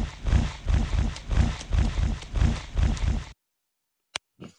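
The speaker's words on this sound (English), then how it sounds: "Oh, there's a nice horse." Horse hooves clip-clop in a horse-riding video game, a loud, steady rhythmic trot of evenly spaced beats that stops abruptly, followed by a couple of short clicks in silence.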